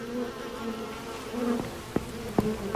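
Bees droning near beehives in the video game Sneak Out, a steady close buzzing hum with a few sharp clicks near the end, no voices.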